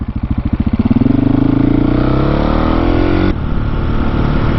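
A KTM 701 supermoto motorcycle engine, loud and close, idling with a pulsing beat that revs up into a steady rising drone before settling to a rougher tone, no talking.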